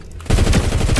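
Rapid gunfire in the video game Fortnite starts abruptly after a brief quiet moment and continues as a loud, dense burst of repeated shots to the end.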